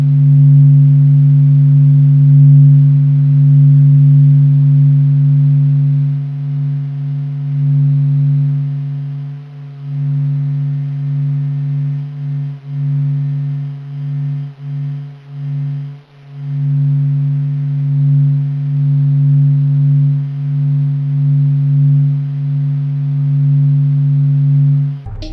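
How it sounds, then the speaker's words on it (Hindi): A sun recording from a solar probe, the sixth in its set, plays as a steady electronic drone of two low sustained tones that waver slightly and dip briefly now and then, with no voices. "चलिए अब सूर्य की आखिरी छठे नंबर की ऑडियो क्लिप सुनते हैं"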